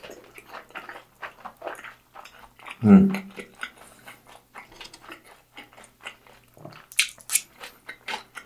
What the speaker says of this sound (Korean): 만두 한번 먹어볼게요.